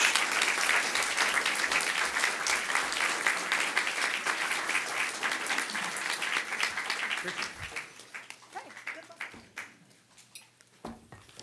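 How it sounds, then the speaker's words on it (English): A town council candidates' forum audience applauds as candidates come to the stage, a steady crowd clapping that thins out and fades to scattered claps near the end. "a warm round of applause for our candidates as they come to the stage"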